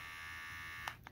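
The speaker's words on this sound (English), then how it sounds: "this is what it sounds like. It's not really as loud as any other trimmer. It's pretty quiet." A Manscaped electric body hair trimmer runs with a quiet, steady thin buzz close by, followed by a couple of brief clicks or knocks near the end.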